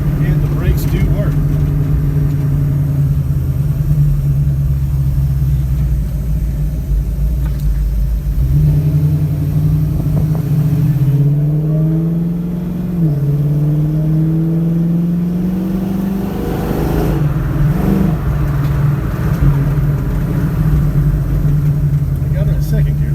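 A Dodge Challenger engine rumbles steadily from inside the car on a test drive, its pitch rising as it accelerates and dipping at gear shifts, with someone talking over it.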